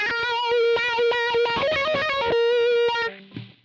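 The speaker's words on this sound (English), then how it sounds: "It is the standard wah-wah that Boss puts in every patch" Electric guitar through a Boss GT-100 standard factory wah-wah, a distorted lead line of sustained and quick notes played alone, close, before fading out.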